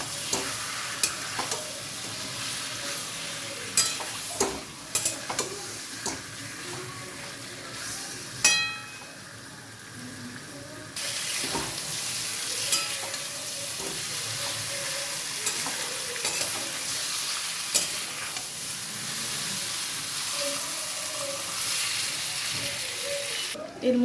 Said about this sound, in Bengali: এবার চিকেনটাকে ভালোভাবে নেড়ে নিচ্ছি